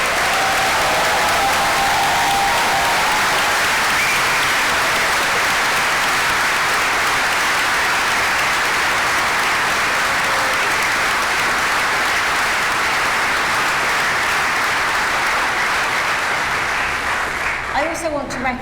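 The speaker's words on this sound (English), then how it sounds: "So let's give all of our graduates today a final round of applause." A large crowd gives a sustained, dense round of applause for graduates at a University of Reading summer graduation ceremony, loud and continuous for the whole stretch before fading slightly at the end.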